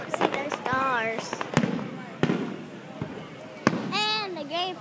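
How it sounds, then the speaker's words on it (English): Fireworks explode in sharp, loud bangs, several in quick succession with crackling and whistling rises between them, while people talk and react nearby. "How many fireworks do they have?"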